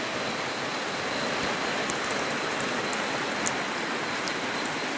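Rain falling steadily outdoors, a dense continuous hiss of drops close by, even in level throughout with no talk.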